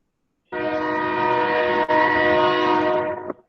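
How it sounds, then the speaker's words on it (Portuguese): A passing train sounds a long, loud, steady horn blast of about three seconds that stops abruptly, heard alone with no talking. "Olha o trem."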